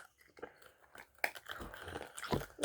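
Hard rock candy bitten and crunched up close: loud, irregular cracking bites and chewing crunches, dense and rough, fairly near, with faint vocal sounds mixed in.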